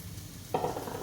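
Sprouted moong beans dropped into a little hot oil, a brief quiet hiss that jumps up suddenly and keeps crackling softly for a moment, close by with no voices.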